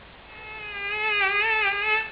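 Ondes Martenot imitating buzzing mosquitoes, a thin, wavering electronic whine that swells and bends in pitch with a slight vibrato, heard alone and growing louder before fading.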